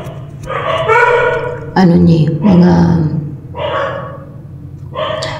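A dog barks and yips in several short bursts close by, with someone talking over and between the barks.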